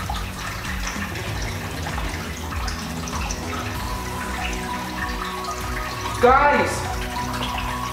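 Water from boiled spaghetti is poured from a pot into a kitchen sink, a steady rushing splash under a raised voice, with a brief sharper clatter near the end.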